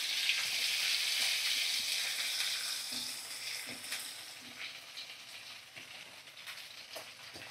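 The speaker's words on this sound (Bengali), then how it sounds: "আর দেখো কুচানো পেঁয়াজ আমি এবার দিয়ে দেবো।" Chopped onions frying in a pan with whole spices such as cardamom, over a medium flame, give a steady loud sizzle that softens a little over time, with faint stirring clicks and no talk.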